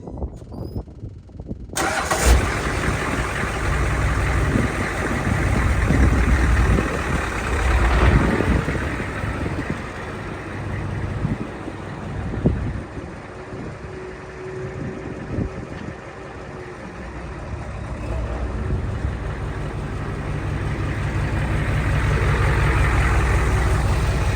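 A 1973 Ford F250 truck fires up and runs steadily in two-high, the engine a close, loud, sustained drone that swells and dips slightly as it drives, with a brief sharp knock midway.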